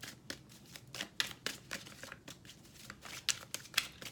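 A deck of women's oracle cards is shuffled and pulled, with soft, close riffling flicks and a few sharper card snaps spread across a quiet background.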